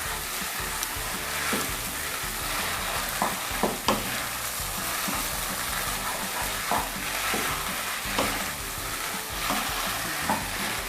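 Blanched Chinese kale and wide rice noodles are stir-fried for pad see ew in a hot wok, with a dense, continuous sizzle and repeated scraping strokes of the spatula close by.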